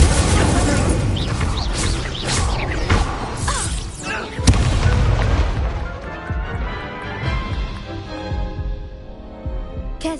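An Incendio fire spell cast in a video game, loud crashing, booming bursts and impacts with a sharp crack midway, then a fading rumble with lighter mechanical clatter trailing off.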